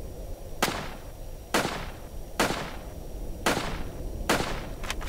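Five sharp, evenly spaced single gunshots in the SCP-354 game, each a loud crack with a short decaying tail over a low, steady ambient background.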